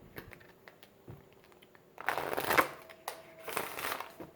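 Tarot cards being shuffled by hand, soft riffling bursts that build in two louder rounds after a quiet stretch of light card handling, close and alone with no talk.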